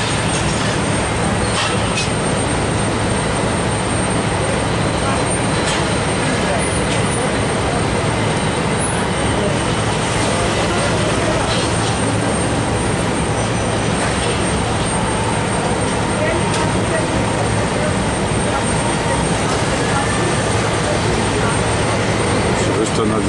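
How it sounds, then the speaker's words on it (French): Heavy constant roar of a Russian airplane passing overhead, a dense broadband rumble that stays loud and unbroken throughout with no clear rise or fade. "C'est juste un avion russe"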